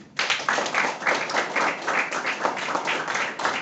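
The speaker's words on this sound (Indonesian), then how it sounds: "Tepuk tangan." Students in a classroom clap together during a teacher's lesson, a short burst of steady group clapping heard close and alone, with no talk over it.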